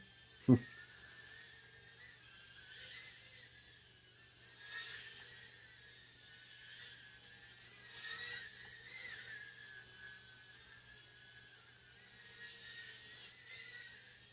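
An Eachine E010S tiny whoop drone flies nearby, its tiny motors giving a thin, high-pitched whine that rises and falls steadily over the whole stretch, with one sharp knock near the start.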